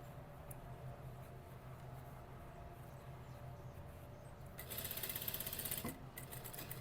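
A sewing machine runs steadily, stitching a 1 cm seam along a curve in fabric; its low, even drone is faint and continuous, growing a little louder and brighter for about a second near the end, with no voices.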